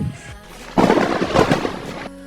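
A loud rumbling thunder-crack sound effect for a lightning attack bursts in after a quiet start, rolling for over a second before cutting off abruptly.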